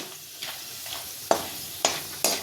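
Star anise and cinnamon frying in oil, a quiet background sizzle broken by four sharp stirring scrapes or clinks spaced about half a second apart.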